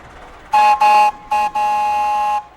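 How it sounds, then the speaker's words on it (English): A loud train whistle blows in four blasts, two short, one brief, then a long sustained tone, clear and close with no other sounds. "That is some loud whistle, too."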